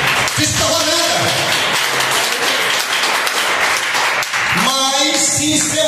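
A Baptist church congregation bursts into applause during a sermon, dense loud clapping filling the space while a pastor's voice carries over it, rising again toward the end.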